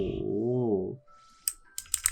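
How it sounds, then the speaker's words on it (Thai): A few sharp, loud computer keyboard key clicks in quick succession, close up, right after a man's speech during Zone4 Extreme gameplay. "โอ้โหคีย์บอร์ดดังจัดนะ ขอขอภัยด้วยนะ เสียงคีย์บอร์ดดังนะ"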